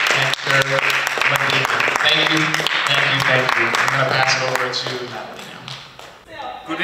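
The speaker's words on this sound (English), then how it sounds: "can everybody just stand up and give these guys a hand clap, please?" A crowd applauds and claps for North Miami mayoral candidates at a community event, a dense, steady wash of hands sustained for several seconds with some voices mixed in, tapering slightly near the end.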